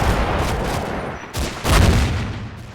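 Mortar rounds and tank shells burst in a village during a Combat Mission battle near Aachen, a steady roll of rumbling booms with a louder, heavier blast near the end.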